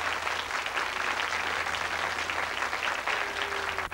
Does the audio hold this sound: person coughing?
no